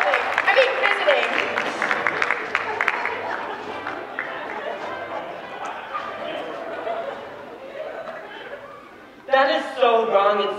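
Audience at a high school play gives a big round of applause that swells and gradually fades, with chatter and laughter mixed in, then a voice speaks near the end.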